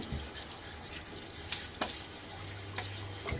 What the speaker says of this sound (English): Bit of water on my face.